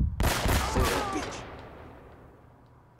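Dense burst of gunfire from the video game Uncharted 1, loud overlapping shots at the start that trail off into a fading echo over a few seconds, with no talking.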